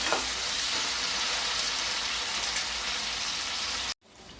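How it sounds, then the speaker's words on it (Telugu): Tindora (ivy gourd) pieces fry in a pan while being stirred, giving a steady, close hissing sizzle with soft scraping, which cuts off abruptly near the end before resuming faintly. "ఇలా మధ్య మధ్యన కలుపుకుంటూ వేపుకోవాలండి."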